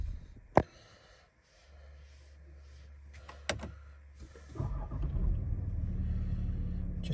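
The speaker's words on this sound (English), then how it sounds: "Just show you the vehicle starting up." A 2016 Range Rover Sport with 73,000 miles gives a sharp click and a low rumble, then its engine catches about two-thirds of the way through and settles into a steady, fairly loud idle. No one talks.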